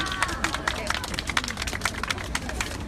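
A crowd at an outdoor Wednesday protest rally claps and cheers to welcome a women's Catholic community group and singers arriving to perform. Dense, steady applause with sharp overlapping claps runs throughout, mixed with crowd babble and scattered voices.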